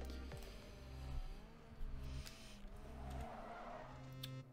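Mini car racing in the Rebel Racing mobile game, a steady engine drone with gear-shift steps and brief tire squeals, fairly faint and without talk.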